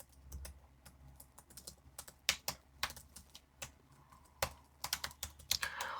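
Someone types an email ID on a computer keyboard, a close run of irregular clicking keystrokes with quick bursts and short pauses, plus a few sharper taps, all alone with no talk.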